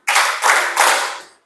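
A group of people claps three quick, loud beats in unison, keeping time to a sung children's action song, with no voices audible over the claps.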